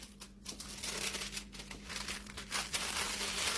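Tissue paper crinkled and wrapped around the stem of a small marshmallow tulip bouquet, a close, continuous rustling and crumpling with brief louder crackles.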